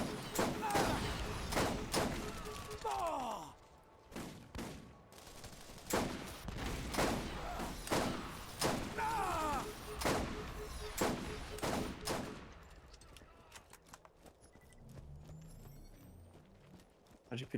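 Turret gunfire in the video game Borderlands: repeated loud bursts of shots in a fast, irregular rhythm for most of the stretch before it drops away, with game effects and a voice talking over it.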